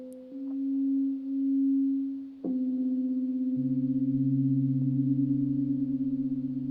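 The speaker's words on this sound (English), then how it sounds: "you hear the pure fork" Chakra tuning fork tones played dry with no echo: a pure, steady sine-like ring that swells and dips, then a second fork strikes and a lower tone joins, sustaining cleanly without repetition, no voices.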